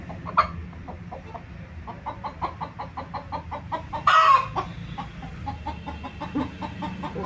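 Backyard hens in a village egg-laying coop cluck in a steady, rapid series of short calls, close by, with one louder squawk midway.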